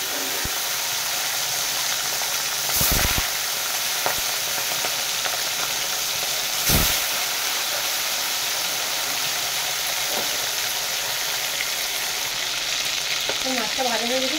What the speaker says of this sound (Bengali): মাছটাকে একটা একটা করে দিয়ে দেবো